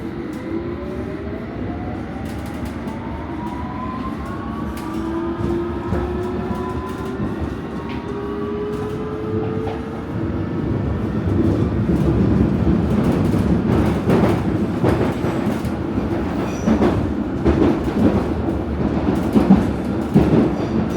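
A London Underground Piccadilly Line train rumbles on the tracks with a steady roar and rising tonal whines, the noise swelling louder and rattling toward the end.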